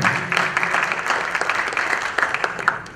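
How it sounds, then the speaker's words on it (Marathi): An audience at a Marathi stage event claps for a returning guest, steady moderately quiet applause from many hands with a busy, uneven patter throughout. "तुमच्या टाळ्या तर व्हायलाच पाहिजेत ना मित्रांनो"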